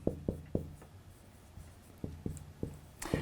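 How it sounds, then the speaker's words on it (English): A pen scratches and taps on paper while notes are handwritten, producing quiet, close, intermittent strokes in short bursts with pauses between them. "let me write this down."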